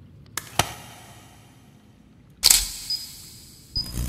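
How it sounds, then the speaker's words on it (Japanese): Camera shutter clicks in the cave-exploration horror game Crawl, two sharp early snaps, then a louder flash-and-shutter burst with a whine, followed by another click near the end, all alone without talk. "写真を撮って、光らせよう。"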